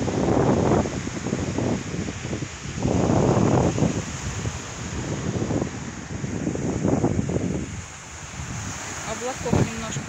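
Wind gusts off the Black Sea on a stormy shore, buffeting the microphone in loud rushing surges that rise and fall, with surf rumbling underneath.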